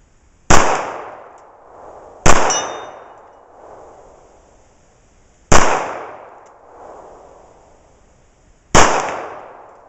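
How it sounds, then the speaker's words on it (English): Kimber full size 1911 pistol in .45 ACP fired outdoors: four loud, sharp shots spaced irregularly, each with a ringing metallic clang and a decaying echo, no talk. "So let me shoot another magazine and see if I can hit it from this distance again."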